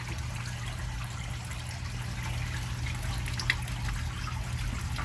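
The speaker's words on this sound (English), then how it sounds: "Got water coming down in them." Water trickles and drips steadily through the pipes of a hydroponics system, a continuous close wet babble over a low hum, with no talking.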